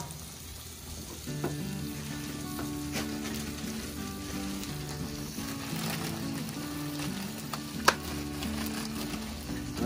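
Olive oil sizzling on a hot Blackstone griddle, a steady close crackle and hiss running throughout, joined partway through by a sustained low tonal hum and a single sharp tap near the end.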